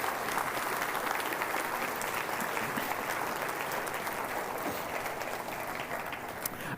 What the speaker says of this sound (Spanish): Dele un aplauso al Señor entonces.